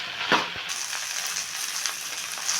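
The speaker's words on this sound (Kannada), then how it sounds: "ಬೆಂಡೆಕಾಯಿ ಒಂದು ಸ್ವಲ್ಪ ಹಸಿ ಸ್ಮೆಲ್ ಹೋಗೋ ಥರ ಸ್ವಲ್ಪ ಎಣ್ಣೆಯಲ್ಲಿ ಫ್ರೈ ಮಾಡ್ಕೋಬೇಕು" Sliced okra fries in a little oil in a pan, giving a steady, soft sizzle with light stirring scrapes.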